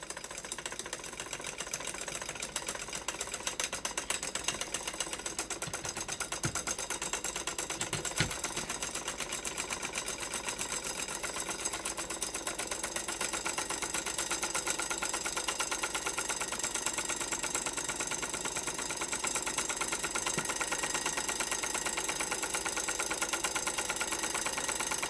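Homemade magnetic pole flip motor with an iron bar, running steadily with a dense, rapid ticking rattle and constant hum that continues close up throughout, without speech.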